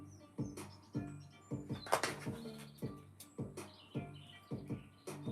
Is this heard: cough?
no